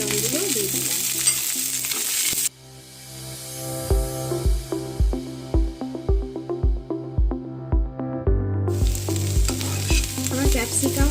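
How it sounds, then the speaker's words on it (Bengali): Chopped onion and capsicum sizzle in hot oil in a pan with ginger, with a steady frying hiss and a regular series of sharp scraping strokes from a spatula stirring the vegetables. "এর মধ্যে আমি পেঁয়াজ দিয়ে দিলাম আর ক্যাপসিকামগুলো দিয়ে দিলাম।"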